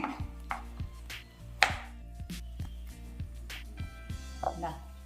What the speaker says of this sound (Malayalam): പിന്നെ കുറച്ച് കൂടുതൽ അണ്ടിപ്പരിപ്പ്, ഇതും ചെറുതാക്കി മുറിക്കും കേട്ടോ